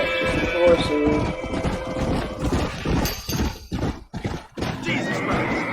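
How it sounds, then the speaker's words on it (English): Horses whinny and hooves clatter in the video game Red Dead Redemption, loud and close, with shrill neighs and busy galloping beats amid game action and voices. "We got some horses."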